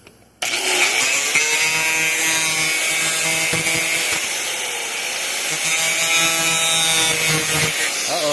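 Handheld grinder running steadily against metal while fenders are fabricated for a 1986 Yamaha YFM 200 Moto4, a loud, continuous whining grind that starts abruptly and holds close and level throughout, with no voices.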